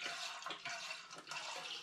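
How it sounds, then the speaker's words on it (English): Apple juice poured from a container into a saucepan, a steady splashing trickle of liquid heard close and fairly quiet for about two seconds. "I'm going to add 1 litre of apple juice into a saucepan."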